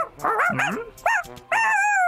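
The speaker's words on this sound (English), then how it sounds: "Mario, what are you barking at me for?" Cartoon dog barking in a series of short, bright yelps and bow-wows with whimpering tones, loud and close, coming in three bursts separated by brief pauses.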